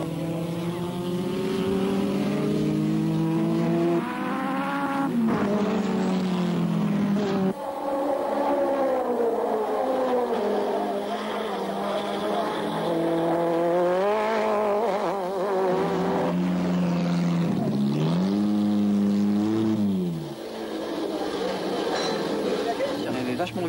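A high-revving Citroën AX Superproduction rally car engine climbs and falls through gear changes at close range, with a voice talking over the steady roar; acceleration tails off around 6300 rpm.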